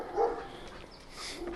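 Dogs on a neighborhood walk give a single yelping bark, then softer whimpering yips a short way off, moderately faint against outdoor background.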